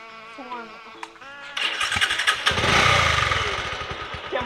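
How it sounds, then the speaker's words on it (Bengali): A motorbike engine being kicked over and catching, rising into a rough idling rattle after a few quiet seconds of faint vocal sounds, close and fairly loud. "বাইক স্টার্ট নিবো, দাঁড়া।"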